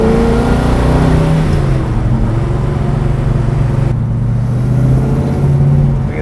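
A 1970 Chevelle SS454 big-block V8 driving and accelerating, its deep engine note rising and falling through revs, loud and steady from inside the car.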